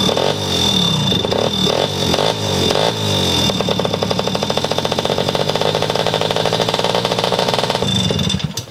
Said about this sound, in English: Does not want to stay idling.